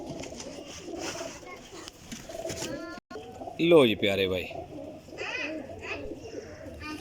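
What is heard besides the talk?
pigeons cooing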